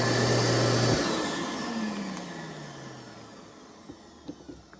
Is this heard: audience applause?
no